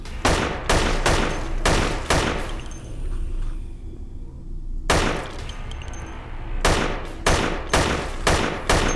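Rapid gunfire rings out in the video game Dead Effect: loud, close bursts of repeated sharp shots with a brief lull in the middle, then more volleys of fire and crashing impacts.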